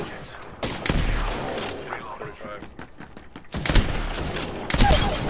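Gunfire in the battle royale game Apex Legends comes in sharp, loud bursts early on and again near the end, with a quieter mechanical lull between them.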